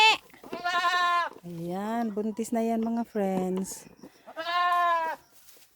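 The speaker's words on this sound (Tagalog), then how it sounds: "Yan na, kambing." Several loud, wavering bleats from goats bought at a farm, including a pregnant female, come in bursts close by, with a person speaking in between.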